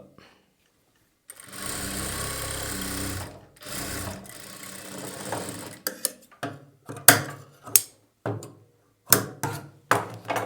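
A sewing machine stitches thread piping on a boat neck blouse, first in two sustained whirring runs, then in a string of short rhythmic stops and starts with clicks between them, close and fairly loud.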